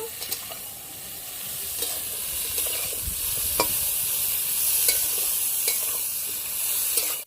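Cauliflower pieces frying in oil in a pan, a continuous even sizzle with scattered crackles and occasional clicks of stirring, close and steady with no talking.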